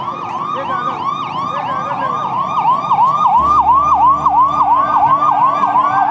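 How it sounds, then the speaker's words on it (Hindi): An ambulance siren wails in a fast repeating up-down pattern, loud and close, at Ahmedabad Riverfront, with a low engine rumble joining partway through. "पीछे एम्बुलेंस भी आ गई है"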